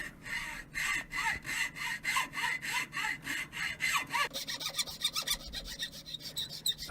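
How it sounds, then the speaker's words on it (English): Hacksaw cutting into wood while a hammer handle is hand-carved on a bench, steady back-and-forth rasping strokes about twice a second, close, with the rhythm quickening and thinning near the end, no talking. "A hacksaw into wood is probably one of my least favorite sounds."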